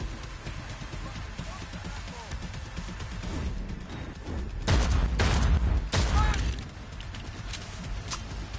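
Pistol fire in Cyberpunk 2077 cracks out in quick sharp bursts over a busy combat background, with a cluster of heavy, loud shots in the middle and scattered fainter reports around it; voices speak intermittently.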